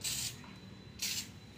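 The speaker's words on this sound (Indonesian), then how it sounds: "kita mulai semprot" Two short bursts of a spray gun laying a thin coat of paint over matte paint to make it glossy, each a loud hissing puff with a quiet pause between them, close by.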